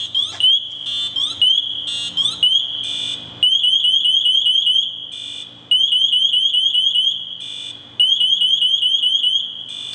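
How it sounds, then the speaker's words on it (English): An MSA SCBA PASS device on a firefighter's breathing apparatus sounds a full alarm, a loud, piercing electronic shriek in repeated rising chirping bursts with brief gaps, close and alone. "We're also going to let it go into full alarm and then we will reset it."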